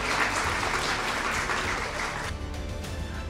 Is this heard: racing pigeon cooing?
no